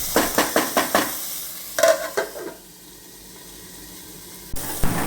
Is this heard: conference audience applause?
no